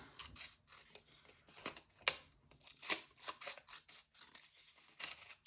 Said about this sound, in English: So I'm just going to trim this.